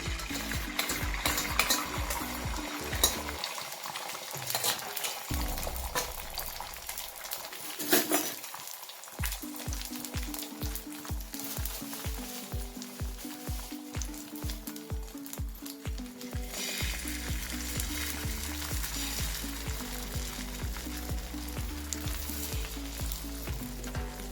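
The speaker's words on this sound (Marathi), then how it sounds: "छान असं ऑमलेट तयार करून घ्यायचं आपल्याला" Omelette egg mixture sizzling steadily in oil on a hot griddle, a continuous close crackle with occasional scraping and utensil clinks.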